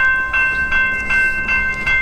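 Moving train heard up close: a loud, sustained whistle-like tone rides over rumbling wheels and regular clacking bursts roughly every half second, with no talking.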